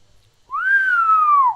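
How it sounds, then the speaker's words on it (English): A person whistles a single sustained clear tone for about a second, loud and close, starting after a brief quiet pause and gliding gently downward in pitch toward the end. "That was a solid whistle."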